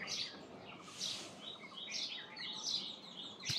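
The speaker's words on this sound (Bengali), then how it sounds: "ওই দেখুন একটা পাখি," Birds chirp and tweet in a jujube (kul) tree at a village home, several short bright calls scattered across the moment at moderate distance, fairly faint over outdoor ambience.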